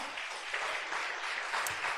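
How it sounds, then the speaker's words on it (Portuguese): A church congregation claps steadily, a warm wash of applause with slight swells. "Você pode aplaudir ao Senhor?"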